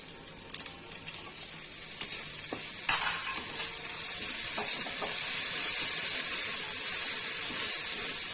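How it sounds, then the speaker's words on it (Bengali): Spice paste with salt and crushed garlic leaves frying in a pan for egg and potato curry, a steady close hiss with a few soft stirring scrapes, no voices. "মশলাটা সুন্দর করে ভাজা হয়ে এসছে।"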